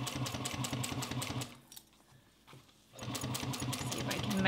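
A Juki 1541s industrial sewing machine stitches a seam at a steady, rapid pulse, pauses briefly, then starts again at the same pace, loud and close.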